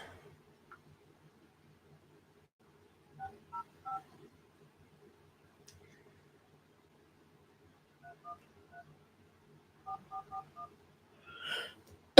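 Touch-tone telephone keypad dialing a conference call number, two quick groups of short DTMF beeps separated by pauses, clear and isolated in a quiet room, ending in a brief louder burst.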